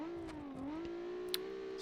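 A race car engine in BeamNG Drive at Hirochi Raceway, holding a steady droning tone that dips briefly and then climbs slightly, with light clicks over it.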